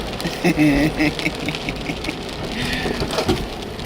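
Heavy spring rain falls in a steady, dense patter close by, with a low rumbling hum and brief murmured voices beneath it.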